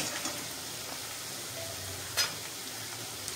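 Chopped onions frying in a pan for Maharashtrian village-style mutton rakti give a soft, steady sizzle that stays fairly faint, with a brief louder crackle near the end.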